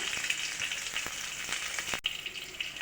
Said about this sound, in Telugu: ఇందులో కట్ చేసుకున్న రెండు పచ్చిమిర్చి ముక్కలు మిరియాలు జీలకర్ర వేసి కొద్దిగా వేపుకున్నాము